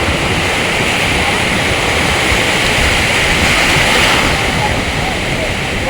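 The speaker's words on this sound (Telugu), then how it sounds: "మనకి చూడండి వాటర్ అయితే ఎట్లా వస్తున్నాయో." Loud, steady rushing of water fills the whole stretch, a constant broadband roar with no breaks, close to the recorder and masking any other detail.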